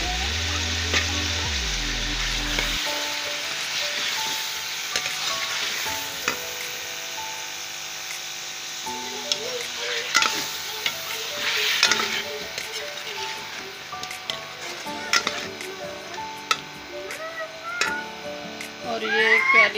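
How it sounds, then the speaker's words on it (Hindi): Onion and chili paste sizzling and frying in a pan, with steady crackling and intermittent stirring scrapes, close and continuous, without talk. "ये प्याज और कली मिर्ची का पेस्ट शामिल कर रही हूँ"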